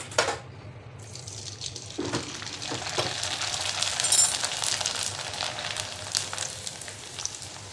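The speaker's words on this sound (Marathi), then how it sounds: "पापड तळून झालेत, कुरडई तळून घ्यायची।" Kurdai frying in hot oil, a steady close sizzle and crackle that swells slightly midway, with no talking.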